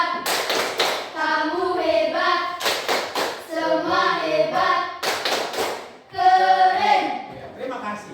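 A classroom group of students performs a rhythmic clapping chant, with bursts of sharp claps alternating with chanted voices in a repeated pattern, close and loud.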